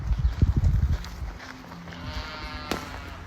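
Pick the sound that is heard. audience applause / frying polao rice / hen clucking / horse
horse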